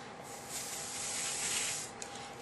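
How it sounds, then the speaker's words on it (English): An airbrush sprays paint onto a card stencil for a craft background, giving a steady, even hiss that holds for over two seconds with a slight swell in the middle, close and fairly quiet. "if you want it really dark, you can really spray it"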